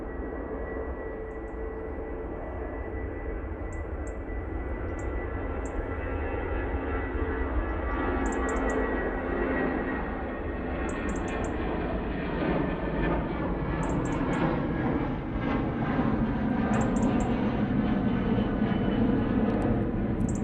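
A British Airways A320 departs Manchester Airport for London, its jet engines a sustained broad roar that builds gradually over twenty seconds, with faint intermittent high beeps above it.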